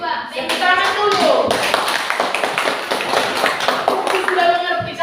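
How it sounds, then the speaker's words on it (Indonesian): A school class claps hands in a rhythmic burst, with sharp, close claps mixed with children's and a teacher's voices throughout. "Tepuk tangan dulu."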